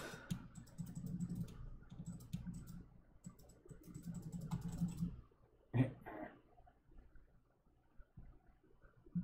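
Computer keyboard keys pressed repeatedly while playing an indie horror game, a steady run of close, soft taps and clicks with a few sharper hits near the end.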